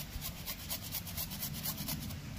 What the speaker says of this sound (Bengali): দিয়ে দিচ্ছি আদা গ্রেট করে।